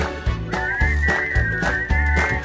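A single person whistles a tune in a clear, steady melody, heard close and alone over a rhythmic backing beat.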